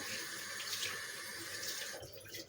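Tap water running steadily into a sink while tomatoes are washed, a continuous close splashing rush with slight shifts as the produce is moved under the stream, with no talk.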